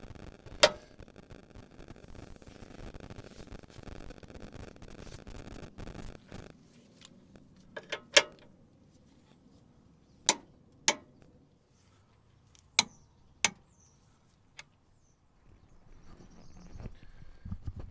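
A torque wrench tightens the gearbox mount bolts on a Ford Focus MK2 to 80 newton meters. Several sharp, isolated clicks ring out one after another over quiet background handling and a brief rattle of ratcheting at the start.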